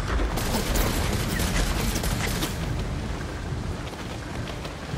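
Explosions rumble below the player in Ghost of Tsushima, a dense, continuous roar of blasts and crackling fire that stays loud across the whole stretch with no talk.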